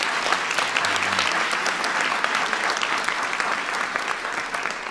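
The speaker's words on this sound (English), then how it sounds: "Give Oracle a big round of applause for that." An audience claps steadily for several seconds in a large hall during a presidential speech, a dense, even wash of applause with no talk over it.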